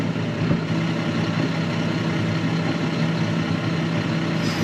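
A tractor engine runs at a steady low drone with a constant hum, close and unbroken throughout, with no voices.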